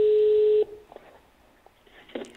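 Telephone ringback tone while calling a lottery participant: one steady ring burst, loud and close, then it stops, leaving a quiet line with faint small noises.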